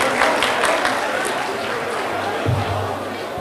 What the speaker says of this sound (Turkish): Bu kadar mı alkışlıyoruz?